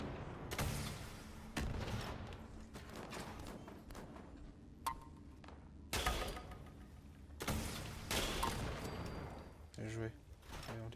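Sniper rifle fire in the video game Fallout 76, heavy booming shots that trail into long rumbling echoes, spaced a few seconds apart, with other game noise under a low bed.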